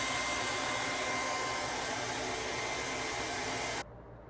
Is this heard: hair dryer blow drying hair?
yes